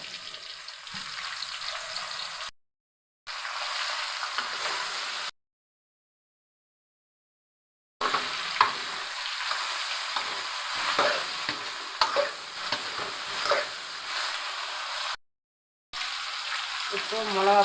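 Brinjal frying in hot oil with garlic, bay leaf and onion gives a loud, continuous sizzle broken by several short silent gaps, with occasional stirring scrapes over the hiss.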